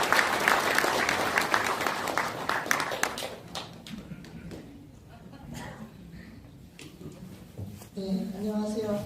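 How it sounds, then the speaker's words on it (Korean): Applause from an audience welcoming a speaker to a political event, loud clapping at first that thins into scattered claps, then gives way to a voice speaking near the end. "큰 박수로 환영해 주시기 바랍니다."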